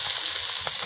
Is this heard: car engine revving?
no